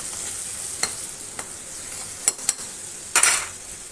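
Potatoes with a paste of cumin, coriander, chilli and turmeric powders sautéing in released oil: a steady soft sizzle with a few sharp spatula scrapes and clinks against the pan, close and alone.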